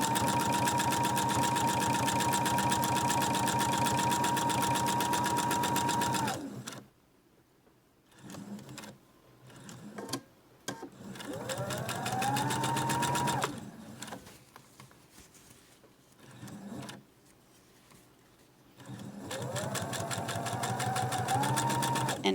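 Sewing machine running in steady bursts while stitching an invisible zipper with a special foot, the fabric curling over the zipper teeth; a long run, a pause with a few short taps, then two further runs, loud and close.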